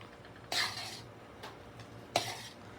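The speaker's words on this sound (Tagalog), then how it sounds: "Imikos-mikos lang yan. Hanggang maglatik." Biko rice cake stirred in a pan: two distinct scraping strokes of a utensil against the pan, fairly faint, with a soft continuous background hiss between them.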